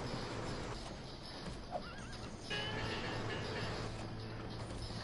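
A horse neighs in The Escapists 2, a prison-escape video game, with the scene set aboard a train. One rising, wavering whinny stands out against a steady, dense game background rumble, with hoof clip-clops mixed in.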